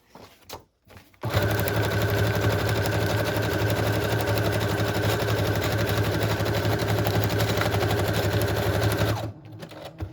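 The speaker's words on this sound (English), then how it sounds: "I'm just gonna sew" A sewing machine runs steadily for about eight seconds, stitching a pocket made from a hanky onto a junk journal page. The motor hums close and loud with a fast, even rhythm, starting after a brief pause and stopping near the end.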